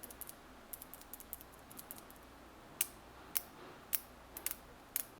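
Quiet, sharp clicks of Razer Huntsman Mini linear optical switches being pressed, scattered and irregular at first, then a few louder distinct taps, with no talking.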